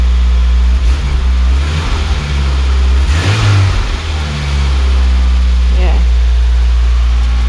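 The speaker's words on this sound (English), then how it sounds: "Ah, see, the choke's kicked in there." A Nissan Micra K10 engine runs on choke at a fast idle, close and loud, with a steady low hum and slight revving swells.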